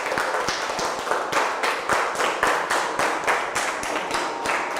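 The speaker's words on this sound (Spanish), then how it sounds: "Vamos a darle por favor un fuerte aplauso" An audience claps at a public talk on pollinators and biodiversity, a steady, moderately close patter of many hands with no voices over it.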